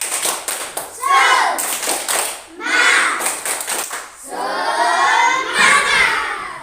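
A class of children claps in a steady rhythm while chanting and shouting a clapping chant together in a classroom, loud and close, in three bursts.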